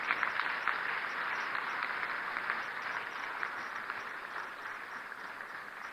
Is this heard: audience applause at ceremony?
yes